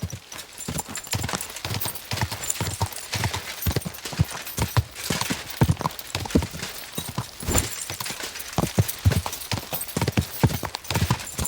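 Rapid rhythmic hoofbeats of a galloping horse in the video game Kingdom Come: Deliverance II, close and steady throughout, with no talking.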